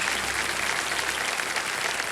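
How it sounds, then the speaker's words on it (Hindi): Studio audience applause on the set of the quiz show KBC, a steady dense clapping that fills the whole stretch at an even level with no talk over it. "आपको ताली बजानी पड़ेगी।"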